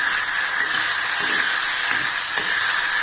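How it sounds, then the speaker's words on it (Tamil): Eggplant and raw banana sautéing in a pan give off a loud, steady hiss of steam, with faint stirring underneath. "ஒரு கத்திரிக்காய் போட்டிருக்காங்க. இதிலே போட்டு நம்ம வதக்கிடணும்."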